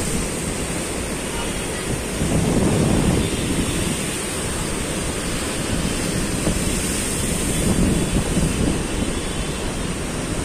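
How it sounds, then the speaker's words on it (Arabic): Sea waves on the Alexandria shore in the high surf left after Storm Daniel, a steady broad wash of surf with wind buffeting, swelling louder around the middle and again near the end, with no voices. "هو دلوقتي بس الموج عالي شوية"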